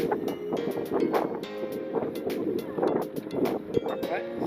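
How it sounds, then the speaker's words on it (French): Strong wind buffets the microphone while cycling along the Canal du Midi in France, a loud, gusty roar that rises and falls in uneven bursts, with muffled voice-like sounds mixed in. "Je me suis pris un vent fantastique."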